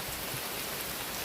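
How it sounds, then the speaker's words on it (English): Rain falls steadily outdoors beside a river during a riverside lobster grill, a dense, even hiss of drops on surfaces that stays constant throughout, with no voices. "When the rain fall, we're out here."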